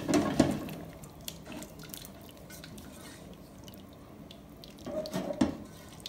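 Half a litre of hot water splashes into a cooking pot for a green corn soup, with a louder pouring burst at the start and another near the end and a softer flowing stretch between them, close by and without talk.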